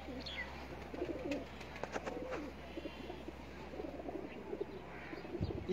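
Pigeons on a rooftop loft coo softly and intermittently over a steady low hum, faint and a little distant, with occasional chirps.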